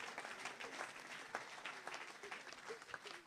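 Applause fills a charismatic church deliverance service as the congregation acclaims Jesus, a steady wash of clapping throughout with a few sharper claps standing out.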